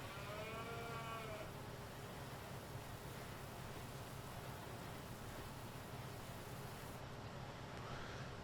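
Cows lowing in the video game Farming Simulator 19, a drawn-out moo at the start and a fainter one near the end over a steady farmyard hum.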